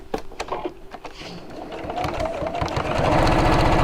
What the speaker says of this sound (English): If you've got a free arm on your sewing machine, then that may help.